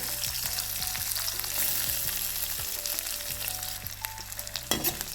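Chopped onions frying in oil tempered with whole spices for a pumpkin-leaf and masoor dal dish, a steady close sizzle broken by repeated scraping strokes of a spatula.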